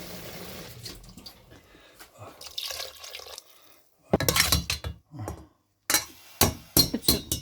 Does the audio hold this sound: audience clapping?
no